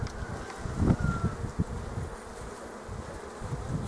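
Bees buzz steadily at an opened beehive during spring hive expansion work after wintering, a continuous close insect drone with brief louder swells near the start and no talk.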